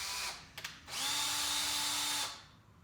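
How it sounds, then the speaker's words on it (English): A power drill driving screws into a garage frame: a brief whir and stutter, then a sustained high-pitched motor whine for over a second before winding down, close and clear. "I'm going to screw them in partially."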